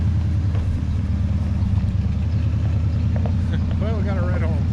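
A 1975 Ford Highboy pickup with a swapped 390 engine rumbles low and steady as it rolls in reverse at idle with the clutch let out, heard close and continuous beneath a brief voice near the end.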